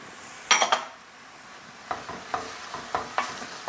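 Tomato puree being stirred into rice and beans in a pan, giving a few soft scraping, clinking stirs with a spoon against the pan, spaced out with quiet pauses between them.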